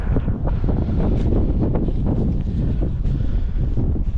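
Wind gusts buffet the microphone outdoors at an abandoned acid factory, a loud, rumbling, uneven roar that fills the whole stretch with no voices.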